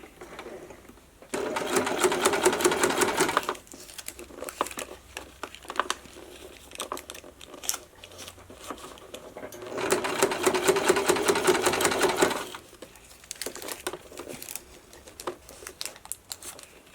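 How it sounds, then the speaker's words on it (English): A sewing machine top-stitches a strip onto a seam allowance for a costume, running in two loud rapid bursts of a few seconds each, with quieter fabric handling and clicks between them. "I'm going to place the strip so I can top stitch the top stitching on the seam allowance."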